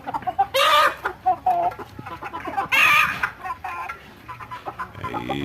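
Chickens clucking and squawking loudly nearby on a farm, with repeated bursts of agitated hen calls and a possible rooster crow, no talking.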